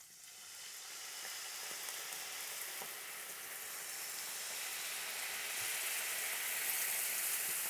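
Mirin poured into a hot pan for teriyaki chicken, a broad soft sizzle that swells and grows steadily stronger over several seconds, fairly quiet and alone.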